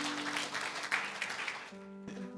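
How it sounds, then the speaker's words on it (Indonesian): A church congregation at a worship service applauding the music team, broad clapping that fades after about two seconds as sustained musical tones remain underneath. "Kita kasih tepuk tangan buat imam musik kita."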